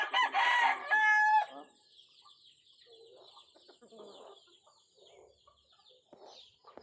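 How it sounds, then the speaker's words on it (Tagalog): A close rooster crows loudly once, followed by softer scattered clucking from nearby chickens. "Daming manok ko."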